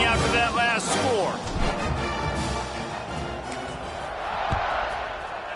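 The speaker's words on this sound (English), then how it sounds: "this crowd is buzzing after that last score" Football stadium crowd at a college game buzzing right after a touchdown, a loud dense roar of many voices filling the space throughout, with scattered shouts rising out of it.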